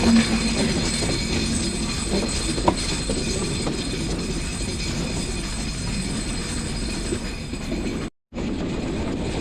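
Train approaching Chuadanga railway station in Bangladesh, a loud steady rumble of rail cars with wheel clatter and squealing, a brief cut of silence near the end, no talking.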